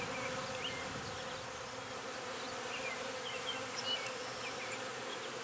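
A dense, steady swarm of honeybees being installed into a hive buzzes continuously, a thick droning hum close by with no voices.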